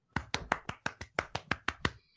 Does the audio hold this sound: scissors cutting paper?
no